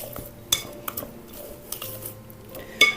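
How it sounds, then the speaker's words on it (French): Cake batter with chocolate pieces being quickly mixed in a bowl, a spoon scraping and clinking against the sides in irregular knocks, with a sharper metallic tap near the end. "On mélange rapidement."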